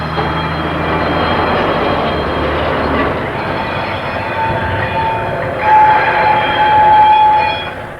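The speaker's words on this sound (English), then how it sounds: "The Ruston diesels were built in 1963, when they were already the last of the type." Ruston diesel locomotive, built in 1963, hauls simple bucket-like freewheeling wagons toward a cement works, a loud continuous rumble and rattle of rolling stock with a faint squeal and a swell near the end, no talk.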